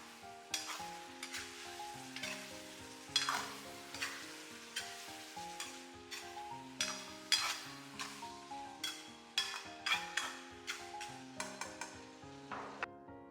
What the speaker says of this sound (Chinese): 翻炒翻炒